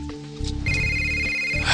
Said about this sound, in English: Why does my phone always have to ring as we're about to leave?